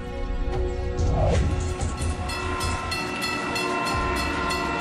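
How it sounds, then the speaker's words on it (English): A passenger train rumbles loudly and continuously, its horn holding steady tones over the rolling clatter of wheels. "Emergency fuel gets passenger trains rolling."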